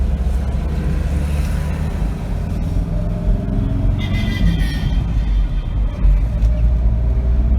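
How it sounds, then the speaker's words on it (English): A 2021 Force Gurkha 2.6-litre diesel engine rumbles steadily and low from inside the cabin, a continuous drone with some road noise and no talking. "the engine noises. I can see it's louder."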